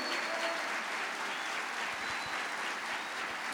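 A church congregation claps together in a steady, full burst of applause that fills the room without any voices on top.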